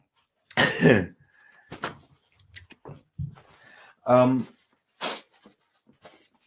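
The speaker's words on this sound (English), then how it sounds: "one of the effects of cognac is that it makes me sneeze" A sharp, explosive sneeze bursts out near the microphone, followed by a few quieter noises and another short burst with pauses between.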